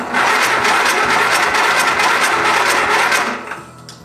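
A small gas engine running on ethanol-free gas is cranked repeatedly, giving a loud, rapid chugging rattle that runs for about three seconds before fading as the cranking stops.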